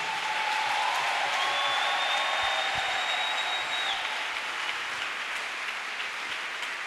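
A church congregation at a French-language worship service applauds and cheers in praise of Jesus, a sustained wash of clapping and voices that stays steady and fairly loud throughout, with a faint whistle-like tone riding over it.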